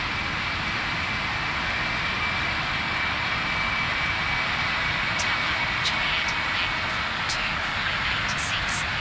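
Boeing 777-300ER jet engines in Real Flight Simulator roar steadily at takeoff power, a loud, continuous, broadband rumble and whine that holds level throughout, with faint brief tones near the end.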